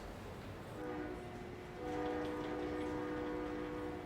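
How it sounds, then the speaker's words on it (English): A train rumbles past with a steady low roar, and a sustained horn tone rises midway and holds to the end. "I think that's the train."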